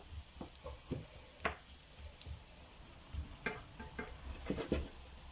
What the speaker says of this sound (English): I will add the onions and garlic and mushrooms. I will keep it on high heat for now.